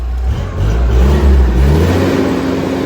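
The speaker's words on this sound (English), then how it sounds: "Oh, it's got an actual rev limiter." A big block race engine revs hard and holds steady against its rev limiter, a loud, continuous, close-up roar with slight fluctuations and no talking.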